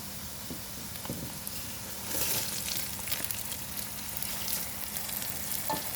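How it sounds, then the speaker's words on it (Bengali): Drained soaked rice frying in a pan for beef biryani, a continuous sizzle with spoon scrapes and stirring that grows louder and busier partway through, close and without speech. "পানি ঝরিয়ে রাখা চাল দিয়ে এখন নেড়েচেড়ে ভেজে নিব।"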